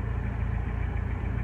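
A car engine idles steadily in a garage while being parked, a continuous low rumble close by with no talk over it.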